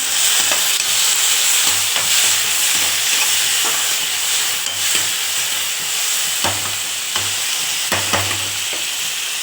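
Tomatoes and onions fry and sizzle steadily in a pan for a Tamil-style grilled chicken thokku gravy, with repeated scraping strokes of a spoon stirring through the hiss, fairly loud and close with no talking.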